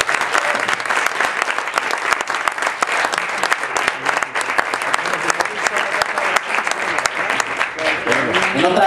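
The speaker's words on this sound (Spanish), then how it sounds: "Un fuerte aplauso de ustedes para ustedes." Loud, sustained applause fills a room at a Startup Weekend project presentation in Seville, the crowd clapping continuously for nearly nine seconds with a murmur of voices underneath.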